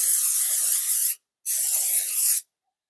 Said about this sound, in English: first we're going to use some Pam olive oil spray